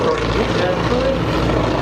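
A vintage Junkers Ju 52 tri-motor transport airplane drones with its three propeller engines at the Oshkosh airshow, a steady loud throbbing hum with a voice speaking over it.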